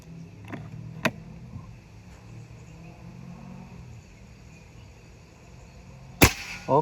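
An FX Maverick air rifle fires at targets, giving a sharp crack near the start and a louder snapping report near the end, separated by quiet background hiss.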